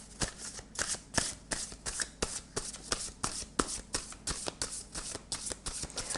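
Dixit board game cards being shuffled and handled, a steady run of soft riffling flicks and crisp card slaps repeating rhythmically up close, with no talking.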